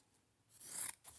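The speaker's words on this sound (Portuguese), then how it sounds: "venho com uma tesoura" Scissors snip through a piece of folded cotton fabric for a dish towel, a short quiet rasping cut that swells briefly and then fades, heard close up with no voices.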